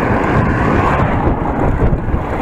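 Wind buffeting a microphone outdoors, a steady loud roar of dense low rumble filling the whole moment without pause and with no voices.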